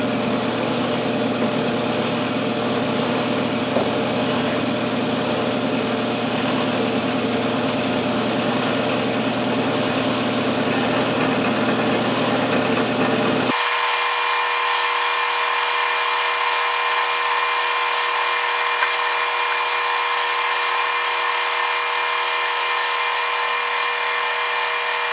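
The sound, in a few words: lathe with ball turning attachment cutting metal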